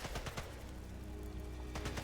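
Gunfire in the video game Sniper Elite Resistance, a dense rattling burst of rapid shots blended with a steady background rumble, loud and continuous over a couple of seconds.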